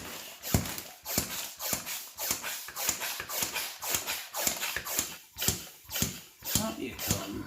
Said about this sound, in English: This is a glorified balloon pump in reverse.